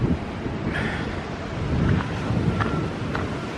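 Strong, steady wind buffets the microphone on a hillside hiking trail through a burned area after a fire, roaring continuously with gusty swells and no voices.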